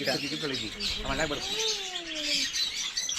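Rescued and surrendered birds chirp and call repeatedly at a pet sanctuary in Bengaluru, amid other background sounds, with a couple of drawn-out whistling notes standing out near the middle.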